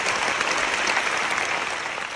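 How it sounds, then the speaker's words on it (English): At the Venice film festival, a large audience gives a standing ovation, with dense, loud, continuous applause throughout. "As the credits rolled on screen, the Venice crowd gave a standing ovation."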